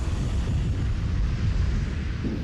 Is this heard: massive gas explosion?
yes